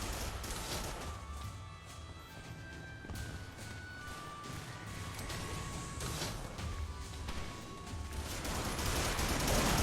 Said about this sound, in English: if you just go full automatic, and you'll see me go fully automatic shortly, the bullets just go everywhere